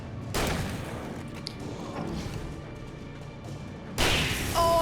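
Shotgun blasts in Alan Wake Remastered, heavy booming shots with a dense rumbling tail, one near the start and another loud one near the end.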